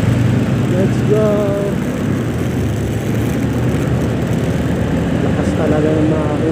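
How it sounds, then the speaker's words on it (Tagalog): A vehicle engine roars loudly and continuously at close range, with people talking over the steady rumble. "Lakas talaga ng makina mo."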